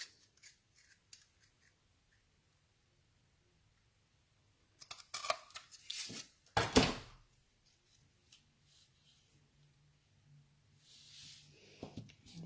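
Scissors trim paper for a handmade card in a few close, crisp snips and rustles, with the loudest cut in the middle and soft handling noise before and after.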